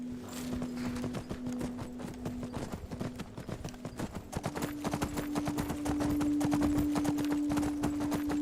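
Steady clip-clop of horse hooves trotting in the video game Skyrim, in a continuous rhythm, with a sustained tonal hum underneath that grows slightly louder toward the end.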